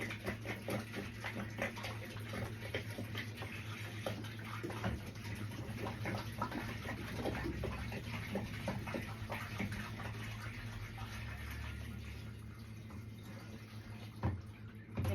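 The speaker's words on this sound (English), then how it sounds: "I'm just going to pour it right into the tank" Liquid plant nutrient is poured into the water tank of a Gardyn indoor growing system, a steady close trickling splash running continuously for several seconds over a low background hum.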